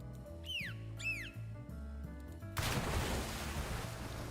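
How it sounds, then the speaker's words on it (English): A sudden loud gunshot-like burst in Goddess of Victory: NIKKE erupts after a stretch of game music and chirping tones, leaving a broad, noisy rush that lingers under the music. "Sounds like a gunshot."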